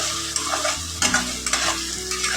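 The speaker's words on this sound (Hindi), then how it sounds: "टमाटो और प्याज अच्छे से फ्राई कर लो" Tomatoes and onions fry in a pan under a loud, continuous sizzle, broken by scraping strokes as a utensil stirs them close up, with no voices.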